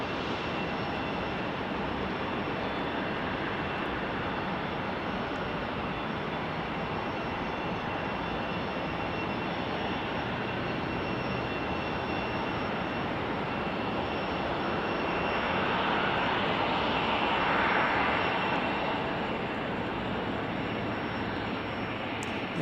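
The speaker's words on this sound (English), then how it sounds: "Our 787 Dreamliner, there she is." A KLM Boeing 787 Dreamliner jet approaches at sunset near SLC with a broad, sustained engine roar that grows slightly louder toward the end.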